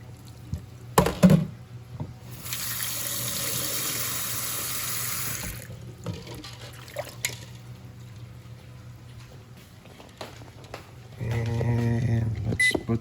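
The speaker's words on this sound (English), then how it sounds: "Pour the water out." Water is poured out of a cooking pot after boiling eggs, a bright splashing rush lasting about three seconds, with kitchen clatter and knocks before and after.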